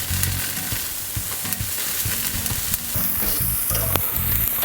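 Mushrooms sizzle loudly on a hot grill with a steady, continuous crackle close by, broken by occasional sharper pops, and no voices.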